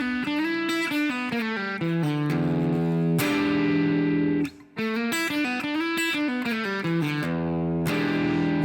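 Les Paul electric guitar playing a slowed-down blues lick from the first E pentatonic box with many open strings, distorted and effect-laden, a steady run of ringing notes with one brief gap partway, close and loud with no talking.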